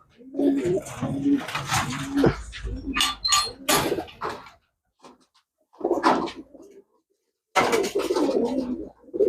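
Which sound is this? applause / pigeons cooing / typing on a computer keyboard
pigeons cooing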